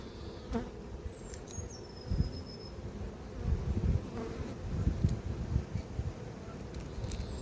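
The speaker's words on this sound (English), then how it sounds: "We can hear a few of these guard bees buzzing around me and getting angsty." Several guard bees buzz around close by at an apiary, their drones rising and fading as they fly past, with soft rustling underneath.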